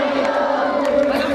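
A large crowd at a Shrimad Bhagwat Katha gathering in a village shouts congratulations in unison, a loud sustained bellow of many voices with steady pitch that fills the whole short stretch.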